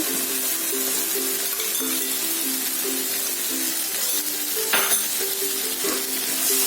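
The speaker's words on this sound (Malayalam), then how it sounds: "നല്ലവണ്ണം മിക്സ് ചെയ്ത് കൊടുക്കാം" Curd being mixed into fried onions in a pan for a Kerala-style fish biryani, a continuous sizzle with stirring under a steady background music tone, close and moderately loud.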